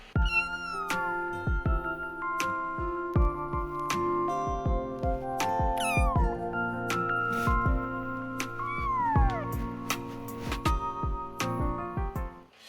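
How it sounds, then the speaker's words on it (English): Cute kittens mew in repeated short, rising-and-falling cries, close and clear, over steady tonal background music. "let me offer you 10 seconds of cute kittens"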